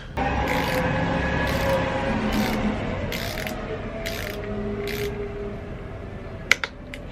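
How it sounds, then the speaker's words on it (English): A torque wrench ratchets bolts during an oil change on a 2025 Honda Grom (MSX125), giving several short bursts of close ratcheting clicks over a steady background hum, followed by a couple of sharp clicks near the end. "I'm gonna try to torque these to about 12 Newton meters."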